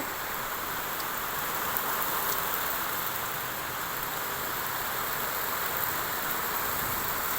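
Steady rain falling after a long hot spell, heard as an even, continuous hiss with no breaks or voices.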